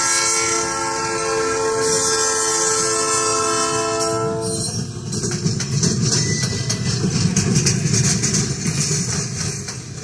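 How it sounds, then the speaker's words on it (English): Colebrookdale Railroad train crossing busy U.S. Route 100 near Pottstown, a loud sustained horn blast for several seconds followed by rumbling, clattering wheels on rails close by. "Before arriving in Pottstown, the train crosses the busy U.S."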